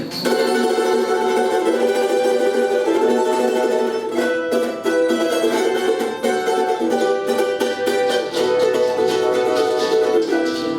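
A plucked replica of an early Spanish guitar plays a continuous melody with bright, ringing notes and strummed chords, close and clear, with no voices.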